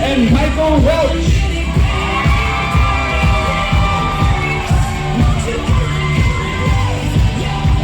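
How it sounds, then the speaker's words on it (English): Wedding reception guests cheering, whooping and yelling in a loud, sustained crowd roar for the groom's parents, with festive shouts over steady background noise throughout. "Big round of applause for Doreen Duffy and Michael Welch."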